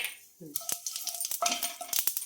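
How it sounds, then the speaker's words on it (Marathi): Sesame seeds dropped into hot oil in a kadai give a quick burst of sizzling and crackling pops, a few sharp near clicks against a steady frying hiss, with a brief voice at the start. "आता मी तीळ टाकते यात. तेल तापलेलं आहे आपलं."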